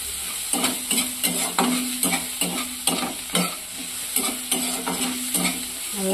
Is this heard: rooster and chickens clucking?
no